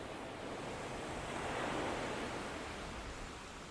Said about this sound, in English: a collage of field recordings that I made near Lake Michigan